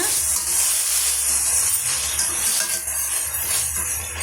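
Onion, garlic and tomato sautéing in a pan for a tamarind curry with ladies finger, a steady close hiss and sizzle running without a break, with no talking.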